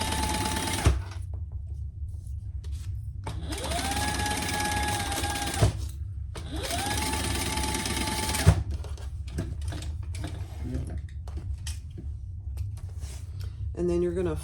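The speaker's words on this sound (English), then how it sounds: "And we're going to sew that together at the seam allowance in the pattern." A sewing machine runs in two sustained bursts, stitching a seam on a garment lining, with steady whirring and brief pauses and stops between runs; quieter handling sounds fill the gaps.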